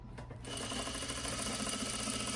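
A sewing machine stitches a T-shirt hem, starting after a short pause and running in a steady, fast mechanical rhythm, close and fairly quiet, with no talking.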